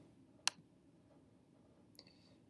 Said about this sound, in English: So I click on the tab.